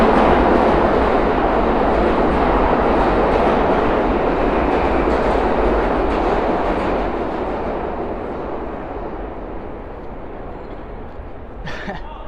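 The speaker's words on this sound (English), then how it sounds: "We'll wait till the subway goes by." A New York City subway train roars past at close range in Manhattan, a loud, sustained rumble of wheels and cars that slowly fades over about twelve seconds, with no talking over it.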